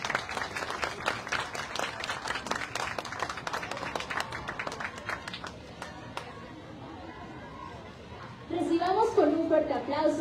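Crowd clapping for a passing contingent at a Day of the Dead parade in Tepeaca, a scattered outdoor patter that thins out midway, with voices and chatter around it and brass band music rising near the end.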